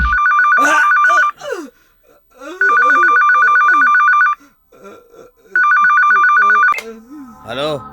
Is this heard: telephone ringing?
yes